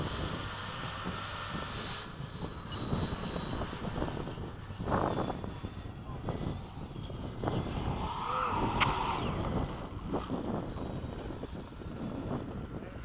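Freewing 80mm MiG-21 RC model jet coming in to land with flaps down, a steady distant turbine whine and rushing roar that swells near the middle, with some wind buffeting.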